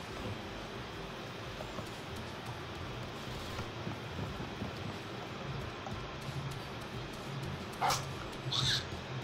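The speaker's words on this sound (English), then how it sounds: "Oh, there's dogs up here." Dogs in the video game MapleStory 2 give a couple of short yips and barks near the end, heard faintly over a steady game background.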